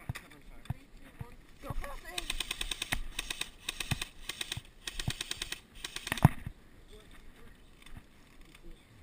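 Airsoft guns fire rapid bursts of cover fire during an outdoor team deathmatch, dense clattering volleys in the middle of the clip with a sharp loud shot near the end, while players shout and talk throughout.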